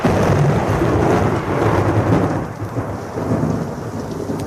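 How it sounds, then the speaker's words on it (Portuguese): Heavy rain pours steadily over Rome while rolling thunder rumbles through the whole stretch, a dense, loud wash of storm noise with no voices. "A chuva fica ainda mais pesada em Roma."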